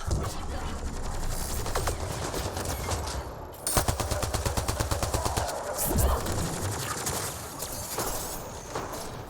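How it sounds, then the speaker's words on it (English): Sci-fi weapon fire during combat in Mass Effect Andromeda, with scattered shots and then a fast, evenly spaced automatic burst lasting a couple of seconds, followed by a sharp impact and fainter shots afterward. "I was shooting at Drac"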